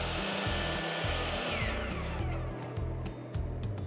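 A handheld router cuts a rabbet along a wooden post for a garden path light, giving a loud whirring, pulsing buzz that surges with each pass, then the motor winds down to lower intermittent rattles.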